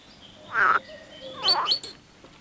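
Flycatcher birds at a nest box give two close, loud bursts of chirping calls, the second ending in higher, sharper notes, with quiet between them.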